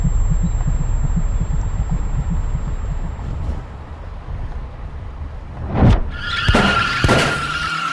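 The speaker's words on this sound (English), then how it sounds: "We can hear the car braking right after Leo tells Vito" A car brakes hard in the video game Mafia 2, a sudden loud tire skid after a stretch of low engine rumble, then sharp screeching bursts fading near the end.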